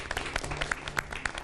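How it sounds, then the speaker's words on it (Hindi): Brief scattered clapping from a studio audience at a television channel's 16th birthday celebration, a handful of separate claps over low background hum, short and fairly faint. "तालियां।"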